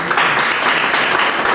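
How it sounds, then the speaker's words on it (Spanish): A church congregation gives a brief burst of applause for Jesus, loud and close, a short dense patter of clapping with a slightly voiced, crowd-like texture. "Le damos un aplauso a Jesús"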